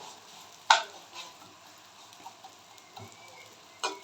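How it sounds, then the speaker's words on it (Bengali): Vermicelli fries gently in ghee for simai payesh, a soft, faint crackle broken by a few sharp clicks and taps from stirring against the pan. "সিমাইটাকে আগে ঘিয়ে ভেজে নেওয়াটা খুব দরকার।"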